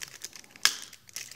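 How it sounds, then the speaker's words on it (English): Cellophane wrapping on Secret Lair trading cards crinkles in a short quiet burst, with one sharper crackle near the middle among faint rustles. "these come in these nice little cellophane wrappers that are awful and have glue all over them"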